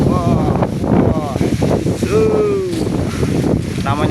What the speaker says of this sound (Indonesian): Namanya di bukit seperti ini, kalau udah datang angin,